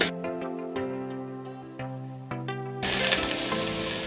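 Chopped tomatoes drop into onions frying in a pan for a chicken curry. After a stretch of plucked tonal music, a loud sizzling crackle bursts in and continues steadily to the end.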